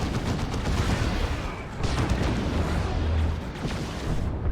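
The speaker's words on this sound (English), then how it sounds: "Wraithguard doing Wraithguard things with their Wraith Cannons." Eldar Wraithguard fire their Wraith Cannons during a 3v3 battle in the strategy video game Dawn of War 2. A dense, sustained roar of blasts and explosions continues without a break, loud and close.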